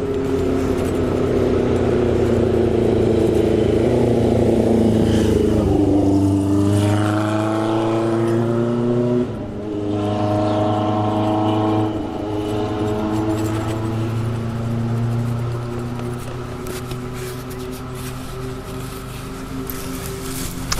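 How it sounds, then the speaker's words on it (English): A loud engine roars close by, its pitch rising and then falling as it passes, fading into a lower rumble toward the end. "I think we have a noisy motorcycle coming."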